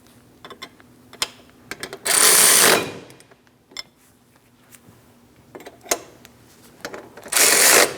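A ratchet snugs the brake caliper slider bolts on a 2003-2007 Cadillac CTS, heard as short clicking bursts close by with quiet pauses between them.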